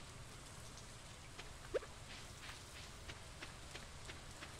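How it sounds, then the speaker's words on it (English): Soft, steady rain falls in the video game Stardew Valley, a faint continuous patter with scattered light drop ticks throughout and no voices. "It's been raining all day."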